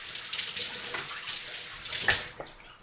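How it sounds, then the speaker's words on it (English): Running tap water splashes over hands at a kitchen sink while meatballs are being made, a steady broadband rush of flow with a brief louder splash near the end, close and alone. "quickly washed my hands"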